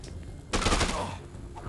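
A brief burst of rapid gunfire in the video game Dead Rising 2, loud and close, lasting about half a second before fading back into quieter game ambience.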